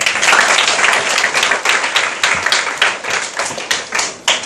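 Audience of students applauds at an IAS coaching class in Kottayam, a dense, steady burst of many hands clapping close and loud, tapering slightly near the end with no talk over it.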